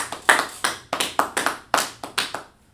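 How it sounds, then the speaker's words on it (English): Rhythmic group clapping in a classroom-style lesson: about ten sharp, evenly spaced claps in a steady beat, close and crisp, then stopping. "Clap it up for him."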